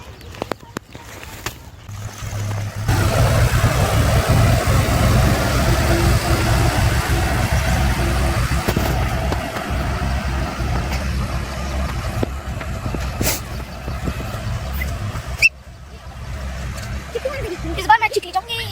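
A tractor engine runs steadily during sugarcane planting, a loud, continuous mid-range drone that dominates most of the clip, with talking around it at the start and end.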